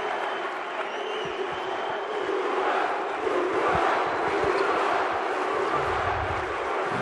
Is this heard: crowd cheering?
yes